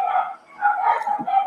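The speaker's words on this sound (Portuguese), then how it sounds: "os meus cachorros estão querendo participar da aula aqui" Dogs bark and yip at a distance in a home during an online lecture, a string of muffled, somewhat tonal barks forming a fairly steady sequence at moderate loudness.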